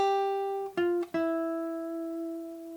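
Electric guitar plays a second lead line: a held note, two quick plucked notes, then a long sustained tone, clean and close with no voices.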